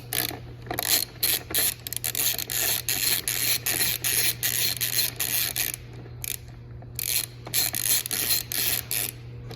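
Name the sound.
Allen wrench unscrewing panels on Kawasaki Ninja ZX-6R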